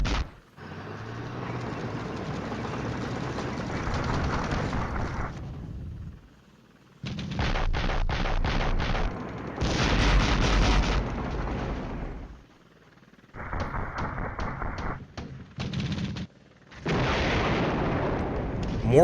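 Artillery strikes in the Flashpoint Campaigns: Southern Storm war game land as loud booming bursts and rumbling blasts in repeated clusters, with short gaps between volleys and sharp crackling impacts.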